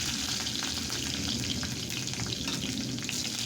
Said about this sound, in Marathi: यानंतर मी याच्यामध्ये मिरची घालत आहे